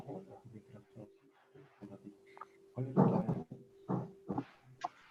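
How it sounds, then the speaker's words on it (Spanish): A small dog barks and whimpers in the background during a spoken pharmacology class, giving short yips and whines between and over the speaker's voice, fairly close and intermittent. "hay un perrito, parece que de fondo, que está queriendo participar"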